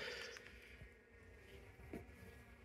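Faint, close buzzing of bees in a quiet setting, a soft droning hum with a brief louder pass near the middle.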